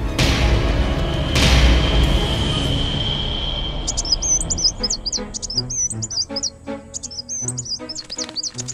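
Bright, repeated sunbird chirps and trilling calls ring out in quick phrases in a morning garden after a low rumble fades, clear and fairly close.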